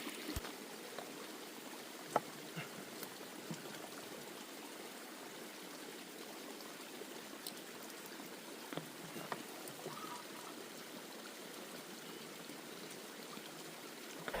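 A stream running beside a hiking trail on a long-distance trek, the day's only water source, flows as a steady, faint broadband wash with small scattered trickles and drips, continuous and unbroken with no voices.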